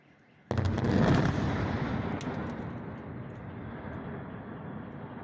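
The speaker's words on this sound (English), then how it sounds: "here's a video of the Ukrainian air defenses shooting down Russian cruise missiles over the city" Ukrainian air defenses fire at Russian cruise missiles over a city, opening with an abrupt loud roar that rumbles on and slowly fades into a sustained distant drone.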